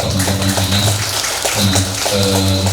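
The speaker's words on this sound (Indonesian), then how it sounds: "Makanya tepuk tangan dulu untuk Pak Rocky dan juga teman-teman dinas" Audience applause at a hand-rolled cigarette making training event in Malang, bursts of clapping under a steady tonal hum from a sound system, pausing briefly midway before resuming.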